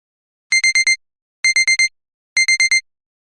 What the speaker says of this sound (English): The alarm clock on the bedside table kept ringing.